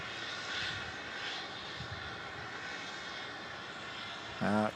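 An airliner departs Melbourne Airport at night, heard from a distance as a steady, broad jet engine roar that holds evenly throughout, with a short clunk near the end.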